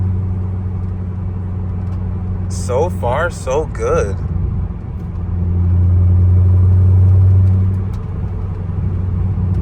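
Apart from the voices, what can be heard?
C5 Corvette driving on test drive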